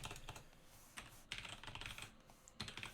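Quiet, rapid clicking of computer keyboard keys as code is typed for a Unity 2D platformer character controller, coming in uneven bursts with short pauses between them.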